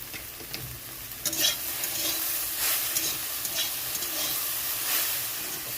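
Taro flowers frying in a pan with black cumin, dried red chilli, salt and turmeric, stirred continuously: a close, steady sizzle broken by repeated scraping strokes of the spatula, with no voices.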